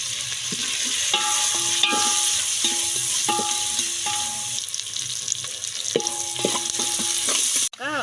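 Onions, curry leaves, salt and turmeric fry in a pan for ulava charu, giving a loud, steady sizzle broken by repeated scraping stirs, with a faint tonal hum running underneath.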